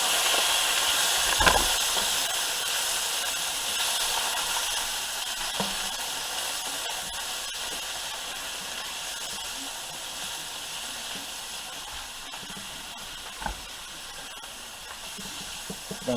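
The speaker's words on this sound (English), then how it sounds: "Throw in some shrimp. Maybe the wok was a little too hot." Shrimp sizzle hard in an overheated wok, a loud continuous hiss that slowly fades, broken by a few sharp spatters and scraping stirs.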